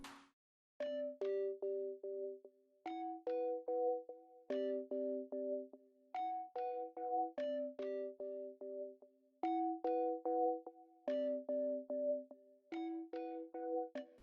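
Serum synth preset named Key Red, from an unreleased kit, in a smooth hip-hop beat: a soft, bell-like keys melody repeating in short plucked notes over a looping two-bar phrase, quiet, clean and alone.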